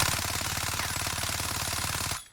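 Rapid automatic ZLR rifle fire in the Modern Warfare video game, a loud continuous stream of evenly spaced shots lasting about two seconds before cutting off.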